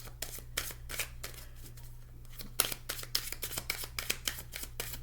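Tarot cards being shuffled in a quick, rhythmic series of crisp riffling bursts, close and fairly quiet over a low steady hum, with a short pause partway through.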